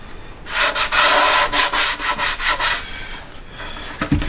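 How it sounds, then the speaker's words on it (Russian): Sandpaper rubs back and forth over a wood carving in quick, rhythmic strokes, loud and close for about three seconds before fading to a few lighter passes and a small knock. "Дальше мы взяли кусочек наждачки."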